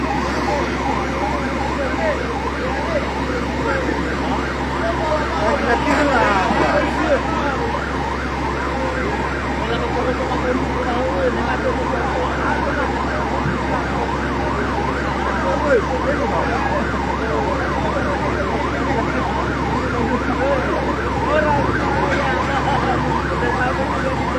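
A fire engine siren wails continuously at close range, cycling up and down over a steady engine rumble, with occasional voices in the background.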